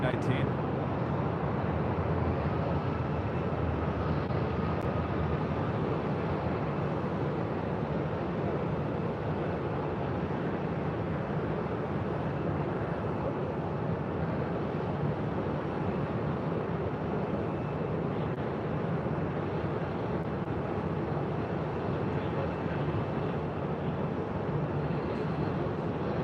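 Airbus A319 on the apron at Phoenix airport during pushback, a steady loud broadband jet engine roar that holds without a break, with a voice speaking over it.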